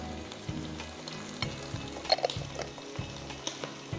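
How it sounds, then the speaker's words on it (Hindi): Ginger garlic paste frying in a pot, a steady soft sizzle with intermittent stirring scrapes and clicks, close up with no talking. "अदरक लहसुन डाल के मैं अच्छी तरह भूनूंगी"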